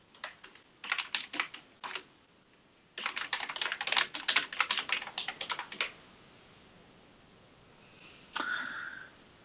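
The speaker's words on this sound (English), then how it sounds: "I am going to type in email address where I can receive emails" Bursts of quick key taps on a computer keyboard as an email address is entered, close and clear, separated by short pauses, with a brief sniff near the end.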